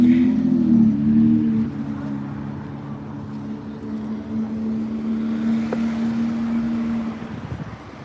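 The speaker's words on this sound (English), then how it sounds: "Some New York traffic sounds." Street traffic in Parkchester in the Bronx, New York, a steady low engine drone and road rumble that holds for several seconds and fades slightly toward the end.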